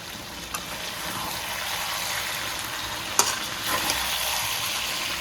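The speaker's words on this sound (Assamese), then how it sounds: "ঢাকন দি প্ৰায় ভাজি আছিলোঁ" Chicken fries in hot oil in a covered pan, giving a dense, constant sizzle at close range with a couple of brief clinks and pops and no voices.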